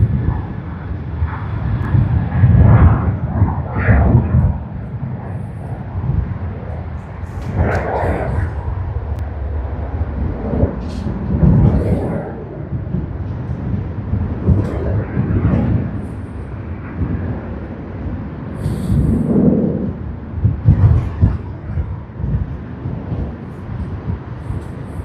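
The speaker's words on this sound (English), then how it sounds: "Let's capture the departure of the Boeing 737-800." A Boeing 737-800 departs Sydney Airport on Australia Day, its engines rumbling from a distance in swelling and fading waves with a broad roar, and a few faint noises mixed in.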